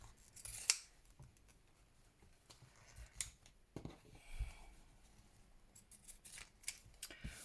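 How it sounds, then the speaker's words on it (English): Several crisp snips of scissors cutting, scattered irregularly over a quiet background, each a short sharp burst close to the listener. "You can obviously do this with standard scissors"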